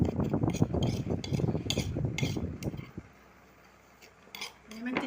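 Spoon stirring paprika, turmeric and chili into salted sardines in a pan, light scraping and clinks for about three seconds, then quiet with a faint clink near the end.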